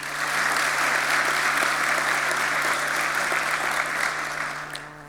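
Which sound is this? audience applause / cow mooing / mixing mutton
audience applause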